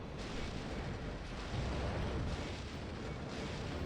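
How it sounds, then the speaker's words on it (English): A rocket launcher firing in the video game Dino Crisis 2, a steady roaring blast with dense rumbling noise that swells slightly midway and holds at high volume throughout, no voices. "Rocket launcher."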